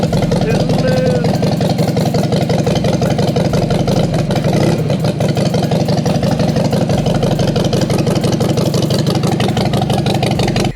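A Harley-Davidson Sportster 48 motorcycle engine idles loud and close, a steady throbbing rumble that runs on without pause.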